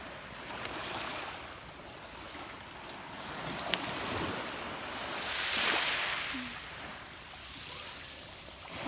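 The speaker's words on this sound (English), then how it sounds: "High tide is coming in." Surf washing onto a Captiva Island beach as high tide comes in, a steady broad rush of waves with a louder swell cresting midway, mixed with light wind noise and no talk.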